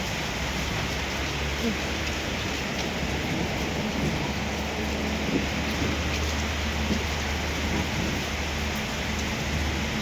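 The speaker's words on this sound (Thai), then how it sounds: "ทางลมทางฝน มาเมื่อกี้นี่โหเปียกหมดพี่น้อง" Steady rain pours down in a dense, continuous hiss with low rumbling beneath, loud and unbroken throughout.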